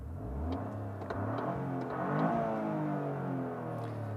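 A 2023 Toyota GR Corolla, all-wheel drive with a 70% rear torque split, accelerates hard as its engine revs up with a rising, mid-pitched drone, heard steadily and moderately loud with no talk over it.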